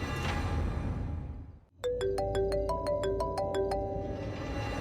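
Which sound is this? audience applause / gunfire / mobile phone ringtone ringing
mobile phone ringtone ringing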